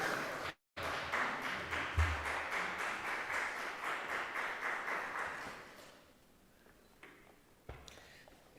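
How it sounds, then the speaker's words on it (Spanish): An audience at a book presentation gives a warm round of applause, a steady clatter of many hands after a brief cutout, fading around the middle and trailing off into scattered claps and quiet room noise. "pido un fuerte aplauso para Fede"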